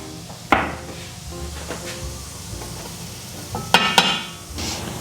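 Shallots fry in butter in a pan with a soft, steady sizzle, broken by sharp clinks and scrapes of a utensil against the pan, close by.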